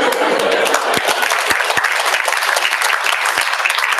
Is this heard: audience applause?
yes